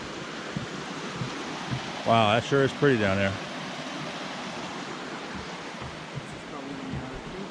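Nine Hour Creek on the Middle Fork Snoqualmie River, a steady broadband rush of flowing water heard from a trail above, continuous and even in level, with someone speaking briefly over it.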